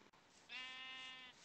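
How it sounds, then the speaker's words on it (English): A sheep in the Minecraft video game gives a single short, clear bleat, heard alone against a quiet background. "Nope, that's a sheep."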